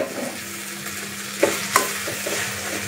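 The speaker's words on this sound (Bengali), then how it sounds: "নুডলসটা হয়ে গেছে, বেশি একটা ভাজবো না, এরকমই রাখবো, ভেজে দেবো।" Noodles stirred and fried in a pan, a steady sizzle with a few sharp clinks of the utensil against the pan, close and continuous with no talking.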